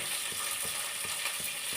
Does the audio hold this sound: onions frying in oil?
yes